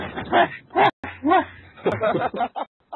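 A dog gives several short barks and yips in quick bursts, close by, with brief pauses between them.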